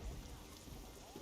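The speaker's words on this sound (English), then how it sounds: "it is night, it is raining" Night rain in Euro Truck Simulator 2, a soft continuous patter with a low rumble underneath, faint and steady with no talk over it.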